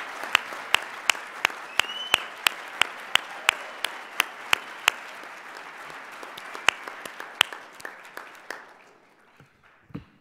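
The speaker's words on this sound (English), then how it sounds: "I just want to start by giving a round of applause to the Iranian-American community of Arizona." Audience applause at a political event in Phoenix, Arizona, broad clapping overlaid by loud, evenly spaced sharp claps from one nearby pair of hands, fading out toward the end.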